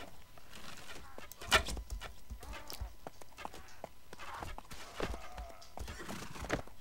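Horses in Mount & Blade: Warband clop and whinny amid a battle, with hoofbeats and a sharp neigh cutting through, while someone talks over the scene.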